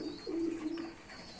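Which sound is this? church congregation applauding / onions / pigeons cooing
pigeons cooing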